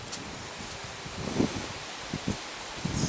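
Gusty outdoor wind rustles and buffets nearby, a soft steady hiss broken by several low thumping bursts of wind against the microphone, fairly quiet and with no talking.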